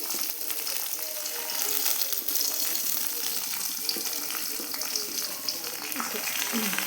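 Ginger, green chili and curry leaves sautéing in a pan, giving a steady, close sizzle and crackle throughout, with a soft voice faintly underneath.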